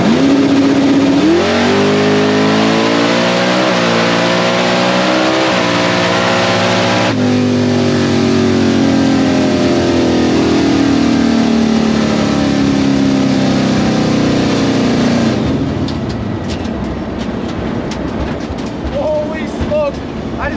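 A drag race car launches on a season-opening test pass, its engine roaring loud and close and climbing in pitch through several gear changes before the sound fades and thins out near the end.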